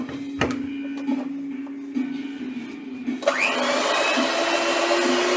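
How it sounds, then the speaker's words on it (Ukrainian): An electric hand mixer switches on partway through and runs steadily with a loud whirring hum, after a few quieter kitchen clatters and a low background drone. "беремо наш міксер. Вмикаємо його."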